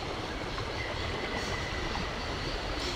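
A train stands at a station in the video game Syberia, producing a steady, dense rumble of rolling railway noise that holds at an even level throughout, with no voices.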